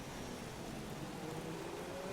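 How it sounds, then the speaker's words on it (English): Heavy rain falls in the F1 2016 racing game at the Belgian Grand Prix, a steady, soft, even hiss of downpour with no other distinct sounds. "The question we have to ask is this heavy rain going to continue"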